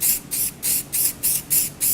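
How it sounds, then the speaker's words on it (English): Varnish with gold glitter hisses from an aerosol can in seven short, sharp bursts with even gaps, close and fairly loud, with no talking. "And then a little spray here."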